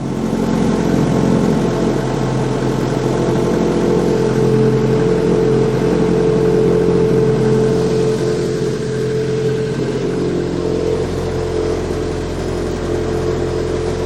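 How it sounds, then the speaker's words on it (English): A Ford Focus Mk1 engine runs steadily at idle, its loose exhaust adding a buzzing, vibrating rattle over a constant low drone, close and fairly loud throughout. "Sorry about the exhaust, it will sound a bit vibrating"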